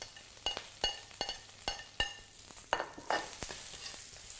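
Spring onions, ginger and garlic fry in a swirl of oil in a wok over high heat for a Kung Pao sauce, with a steady sizzle broken by sharp, regular clinks and scrapes of stirring.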